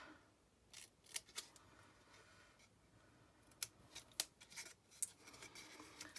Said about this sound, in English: again we want to snip that corner out